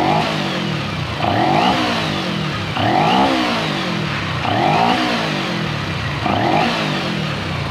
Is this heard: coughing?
no